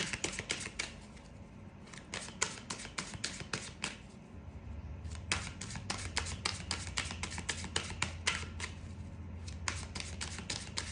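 Angel oracle cards are shuffled and drawn by hand in a quick series of close, crisp riffles and flicks, with short pauses between bursts.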